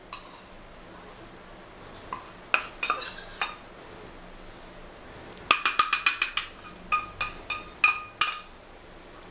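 A metal spoon clinks and scrapes against a bowl as custard powder is added for an eggless caramel custard pudding, sharp bright taps in a few quick clusters, close and fairly loud, with no talking.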